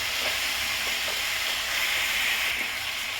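Chicken masala for litti chicken cooks in a pan with a steady, close sizzle and hiss of frying. Faint scrapes of stirring come through under it.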